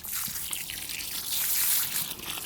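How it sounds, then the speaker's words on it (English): Water poured onto potato plants growing in pots outdoors, a steady close trickle and splash running continuously without pause. "putting some water on them"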